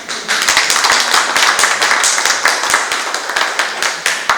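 An audience applauds the chairman at a Busan tea culture festival forum, with steady, dense clapping from many hands filling the room throughout.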